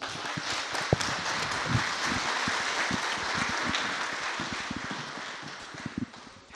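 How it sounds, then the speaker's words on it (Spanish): Audience applause for a speaker at a public security conference in Hidalgo, a steady broadband clatter of many hands clapping that holds for several seconds, close and even, then tapers toward the end. "Recibámoslo con un fuerte aplauso"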